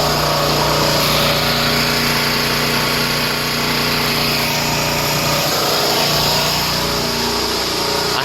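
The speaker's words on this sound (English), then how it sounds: "I have them charging on the generator right now" A portable generator charging batteries runs continuously close by, a loud, steady high-pitched engine drone with a constant hum and no change in pace and no voices.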